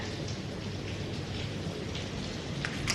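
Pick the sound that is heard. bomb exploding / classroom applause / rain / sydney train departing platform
rain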